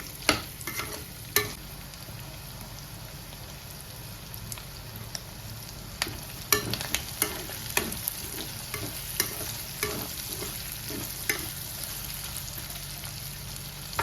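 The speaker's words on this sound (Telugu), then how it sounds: "తర్వాత కరివేపాకు ఇవన్నీ ఫ్రై చేసుకోవాలండి మంచి కుక్ అయ్యేదాకా ఫ్రై చేసి" Curry leaves and aromatics sizzle in oil in a pan for a prawn fry, a steady close crackle broken by sharp clicks of a spoon scraping and stirring, with no voices.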